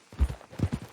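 Horse hooves clip-clop in Red Dead Redemption 2, a few uneven, close thuds spread across a short burst with no talk over them.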